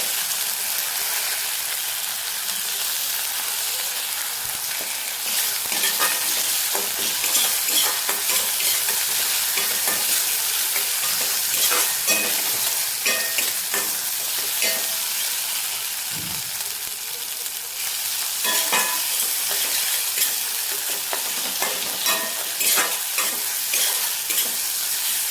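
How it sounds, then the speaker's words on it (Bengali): Bitter gourd, potato and fish curry stir-fried in a pan, with a loud, continuous sizzle and repeated scraping and stirring strokes close up, a brief dip in the middle. "এটাকে একটুখানি বেশ ভালোভাবে কষিয়ে নেব"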